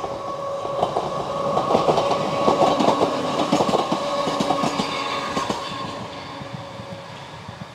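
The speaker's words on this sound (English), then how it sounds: "I kind of want to just wait here and watch the train go by." A train passes on the Isle of Wight railway line, a loud, close rumble with rhythmic clickety-clack of wheels over rail joints that fades toward the end.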